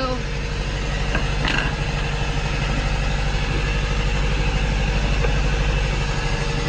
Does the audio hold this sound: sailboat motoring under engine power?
yes